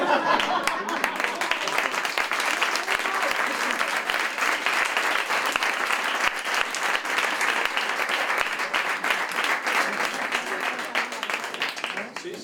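Audience at a talk on the chemistry of beer applauding steadily, dense continuous clapping from many hands filling the room, loud and sustained throughout with no break.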